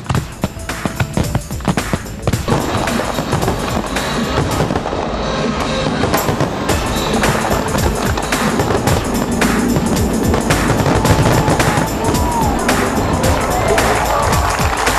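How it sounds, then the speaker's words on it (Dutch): A fireworks display in Portugal goes off as a loud, dense stream of crackling bangs and pops, with sharp isolated blasts at first building into a continuous rattling barrage with crowd noise beneath. "Het vuurwerk van Portugal kan beginnen."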